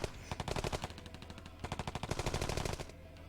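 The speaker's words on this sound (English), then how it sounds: "Bullets were fired." Staccato burst of gunshots as a sound effect in the visual novel Piofiore, rapid evenly spaced shots in two volleys, loud and close, with no talk.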